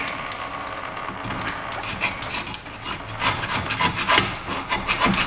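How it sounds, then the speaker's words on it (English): A carbide scraper rasps around a rusty edge at the rear differential vent of a Subaru Impreza, close continuous scratching strokes that grow a little louder and choppier toward the end. "Just going around it with a carbide scraper here. Just getting rid of this rust edge."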